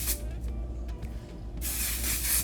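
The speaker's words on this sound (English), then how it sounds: "So I'm just gonna spray this in my hair now" IGK texture spray misted into hair, a soft hiss at first, then a brief pause with light rustling, then a longer, louder burst of spray close by.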